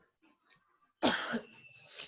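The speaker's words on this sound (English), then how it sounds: "Sorry, I have cough." A sharp, loud cough bursts out after a second of quiet, followed by a rougher throat-clearing rasp that trails off.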